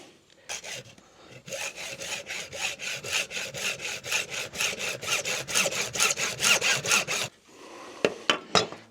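A hand saw cutting through a pipe, about twenty loud, even back-and-forth strokes in a steady rhythm, then a pause and a few sharp final scrapes, close up with no speech.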